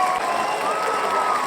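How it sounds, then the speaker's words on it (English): A brief, steady burst of applause and crowd noise from a radio show audience, loud and continuous before cutting off abruptly. "Let's give a round of applause for courage."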